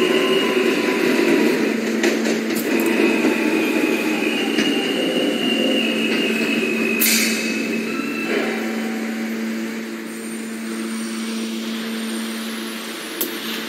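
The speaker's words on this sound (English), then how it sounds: "This is a Ridgeworth Island bound Q express train." An R160A Q express subway train runs with a steady electric motor whine and drawn-out tonal hums that shift in pitch, along with rattling track noise, loud and continuous, easing slightly toward the end.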